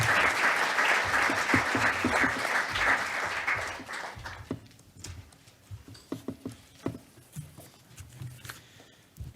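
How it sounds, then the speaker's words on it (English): Conference audience applause for the Swiss president, a dense round of clapping that fades out around four seconds, followed by scattered, sparse claps and quiet shuffling. "Please give him a round of applause"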